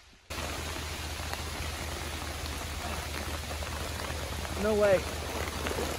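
Rain falls steadily outdoors at a stone-age flintknapping site, a dense continuous patter with a constant low hum beneath it, and a person briefly speaks near the end.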